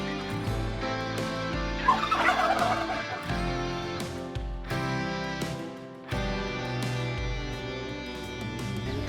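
Farmed turkeys gobble over a steady background of tonal sound, with a busy burst of calls early on and sustained droning throughout.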